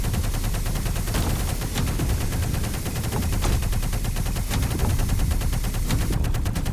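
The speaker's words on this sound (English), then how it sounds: "What's shooting at me?" Dense, continuous gunfire in the VR Invaders shooter, loud and close, with rapid machine-gun bursts and sharp cracks running through the whole stretch over a constant noisy background.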